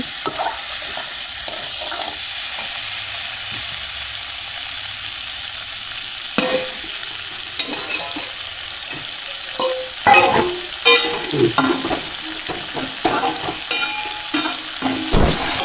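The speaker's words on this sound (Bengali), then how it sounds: "যে সবজিগুলো আমার ভাজা ভাজা হয়ে গেছে" Vegetables fry in a pan with a low, even sizzle, then stirring grows busier, with repeated scraping and clattering strokes of a spatula against the pan up close. No one speaks.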